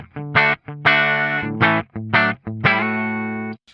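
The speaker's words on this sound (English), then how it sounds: "This is the guitar sound on its own. That's just the amp, the guitar," Clean electric guitar played straight through a Fender Princeton amp with no reverb, a series of distinct strummed chords and short phrases separated by brief gaps, close and fairly loud with slight drive.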